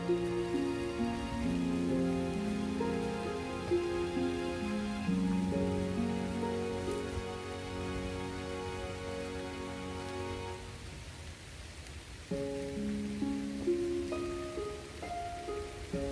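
Steady rain falls on a young avocado planting during the wet season, a continuous even patter with no voices, over a sustained tonal hum and low drone that fades partway through.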